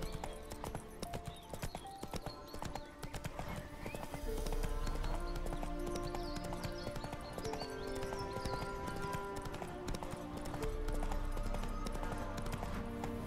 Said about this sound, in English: Giddy up. No. Go. Not so fast, Roach.